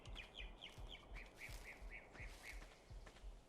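Repeated bird chirps and calls in the ARK survival game on the Crystal Isles map, a quick series of bright, fairly close notes over soft thudding steps, with no one speaking.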